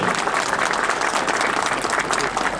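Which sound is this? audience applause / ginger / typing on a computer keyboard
audience applause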